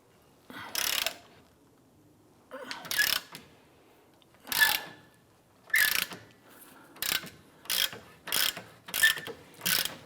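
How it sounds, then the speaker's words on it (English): A ratchet with a 21mm socket turns a lower control arm bolt on a 2008-2013 Nissan Rogue rear suspension, giving bursts of quick clicking pawl strokes separated by short pauses, close and clear. "We're going to use a 21mm socket on the bolt side and 21mm on the nut side on our lower control arm."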